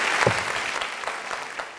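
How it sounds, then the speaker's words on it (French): Brief scattered applause from a small audience during a live broadcast, moderately quiet with a voice cutting through near the start. "On n'applaudit pas ça là."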